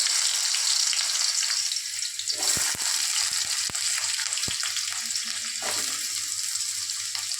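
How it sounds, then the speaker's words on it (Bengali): Vegetables frying lightly in a pan for a poppy-seed dish with drumstick flowers give a steady broadband sizzle throughout, with a few sharp clicks of stirring partway through and no talk. "এবার আমি একে একে সমস্ত সবজি হালকা করে একটু ভেজে নেব।"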